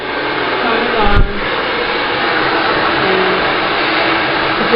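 Hair dryer blowing onto hair, a loud, steady close-up rush of air with a brief bump partway through, running without pause.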